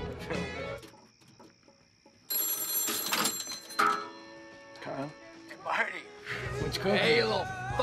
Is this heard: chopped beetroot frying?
no